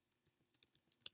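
Quiet keystrokes on a computer keyboard while code is entered for a trivia game program, with a scattered run of soft clicks building to a couple of sharper taps, close and alone.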